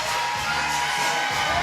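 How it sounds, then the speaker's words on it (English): Arena crowd at a Hard Knox Fight Night boxing event cheering and roaring for fighter Keron Joseph, a dense, continuous wall of voices with shouts rising through it. "Listen to that crowd. They love Keron."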